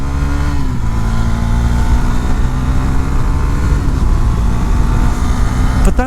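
2019 Husqvarna Svartpilen 401 single-cylinder motorcycle engine under way on the road, a loud, steady, throbbing drone with slight pitch shifts as the throttle changes, continuous for the whole stretch.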